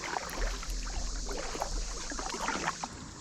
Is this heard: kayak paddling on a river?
yes